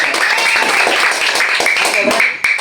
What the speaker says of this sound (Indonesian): tepuk tangan untuk semua dulu